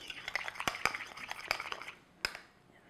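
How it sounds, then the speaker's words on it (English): A spoon stirs raspberry jam in a bowl, giving soft, sticky scraping with several sharp clinks of metal against the dish, close and fairly quiet. "And just give it a good stir."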